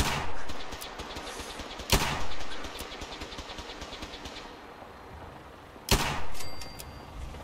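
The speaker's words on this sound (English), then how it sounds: "How am I missing these shots?" Gunfire in the video game Fallout 4, with two sharp, loud shots roughly four seconds apart, each followed by a short burst of rapid fire, over a constant rumbling engine-like drone.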